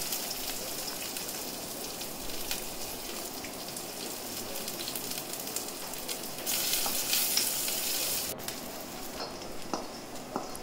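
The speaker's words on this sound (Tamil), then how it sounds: "ரெண்டு பெரிய வெங்காயம், கறிவேப்பிலையும் ஆட் பண்ணி வெங்காயம் நல்லா வதக்கி எடுத்துக்கலாம்" Onions sautéing with curry leaves in a pan, a steady broadband frying sizzle that runs the whole time, growing a bit louder and brighter partway through, with no voices.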